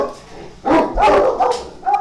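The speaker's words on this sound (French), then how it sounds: "Et je vais couper son des chiens peut-être" Dogs barking in a few short, sharp yaps and woofs close by, coming in a quick burst over a faint background.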